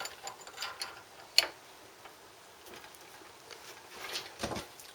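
A hand tap in a tap wrench cuts an 8mm thread into a 7mm hole in metal, making close, faint ratcheting clicks and scraping ticks with one sharper click.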